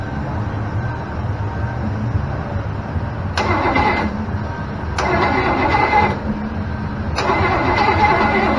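A small block Chevrolet 327 V8 on an engine run stand cranks repeatedly in three bursts, each a loud, close whirring starter churn that stops without catching, over a low background rumble.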